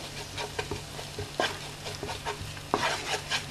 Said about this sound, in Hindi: उसके अंदर थोड़ा सा लाल मिर्च पाउडर और धनिया पाउडर थोड़ा सा डालें, उसको अच्छी तरह से मिक्स करें